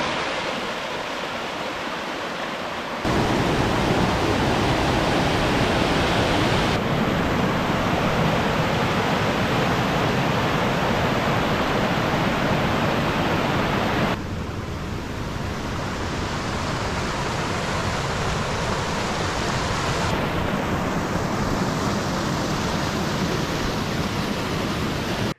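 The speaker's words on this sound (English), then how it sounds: "I can already see a wonderful fast flowing waterfall" A fast-flowing mountain waterfall swollen by heavy rain, a steady loud broadband roar of rushing water that shifts abruptly in level at a few points, with no voices.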